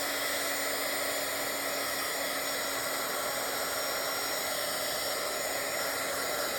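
A heat tool blows a steady, even hiss of hot air over gesso on a journal page, unbroken and fairly close with no speech.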